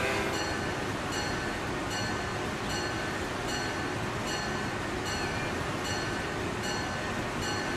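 A train running in the video game Transport Fever 2, a steady continuous rumble with faint periodic clicks of wheels over rail joints, holding even and moderately loud throughout with no voices.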